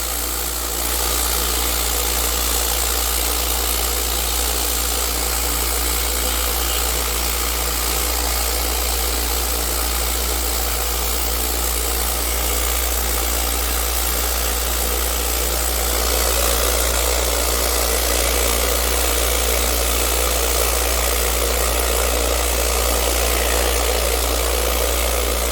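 A vibratory rock tumbler loaded with rocks in 500 grit runs steadily, giving a loud, constant mechanical hum and buzz that holds unchanged throughout with no voices.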